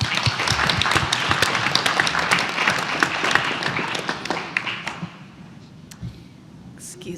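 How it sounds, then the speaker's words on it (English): A workshop audience claps together in a dense, lively round of applause that thins into scattered claps and fades away near the end. "let's give yourself a round of applause for making it"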